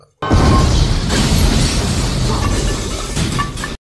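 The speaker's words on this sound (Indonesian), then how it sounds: "Bom pun meledak membuat si Terminator hancur." A loud, sustained roaring bomb explosion from the film The Terminator, with crackling debris, filling the clip for several seconds before cutting off.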